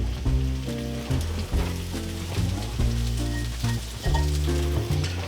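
Thinly sliced cabbage sizzles in a single pan alongside pork belly and crisping potatoes, a loud, steady frying hiss with bursts of crackle and no talking.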